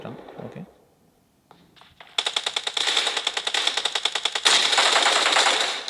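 Shotgun fire in a mobile shooter game played on a realme GT Neo 3T phone: a quiet lull, then a loud run of rapid, evenly spaced sharp shots that builds into a dense burst near the end.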